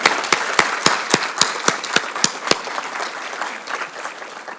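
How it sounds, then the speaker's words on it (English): Applause from the audience at a police awards ceremony, opening with a run of sharp, evenly spaced individual claps that blend into a softer, thinning round of crowd clapping. "Please give them a round of applause"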